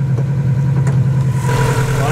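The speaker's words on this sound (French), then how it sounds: "Voilà, son beau moteur." A Subaru EJ20G close-deck engine idles in a car, a loud, steady low rumble close up with a constant even pulse and no talking over it.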